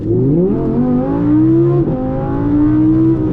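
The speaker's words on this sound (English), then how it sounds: "I'm pressing on the throttle now." An Audi R8 V10 Plus engine pulls hard under throttle on an alpine drive, its loud, close roar climbing steadily in pitch, dipping briefly at a gear change near the middle, then rising again.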